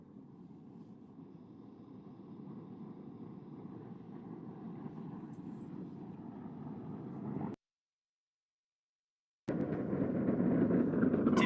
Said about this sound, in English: Sound from the rocket's 9 Merlin engines now reaching our location 4 miles from the launch pad.